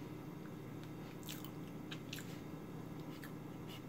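Soft, squishy bite into a chocolate-coated marshmallow snack with a thin milk chocolate shell and gummy, pillowy texture, with no crunch; a few quiet, close, wet squishes, faint and alone.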